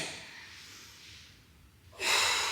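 Heavy exhaled breath during an abdominal workout, a soft airy breath early on followed by a sudden, louder forceful exhale near the end.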